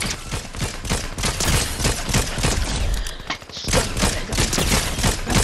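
Rapid video game gunfire rattles in dense, close bursts, with overlapping shots and a short lull midway before the firing resumes.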